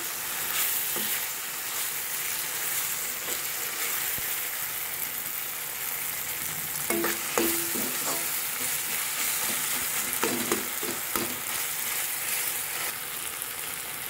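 Poppy seed, ginger and garlic masala paste sizzles steadily in a pan, with a soft continuous hiss and a few light stirring clatters partway through.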